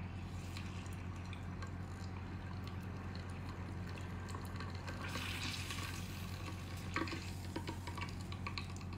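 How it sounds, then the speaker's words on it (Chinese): Centipedes deep-fry in bubbling oil, giving a steady dense sizzle and fizz with a few scattered drips and pops, even and continuous throughout with no talking. "炸蜈蚣还不熟，咱们再让它沸腾一会儿。"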